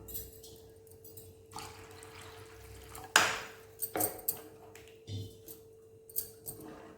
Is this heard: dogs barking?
no